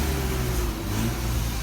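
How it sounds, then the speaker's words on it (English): A car engine with a replacement eBay exhaust kit, fitted after the catalytic converter was stolen, hums at a low, even idle while the car reverses out, a steady close rumble with a faint tonal drone. "I'm actually reversing the car out now"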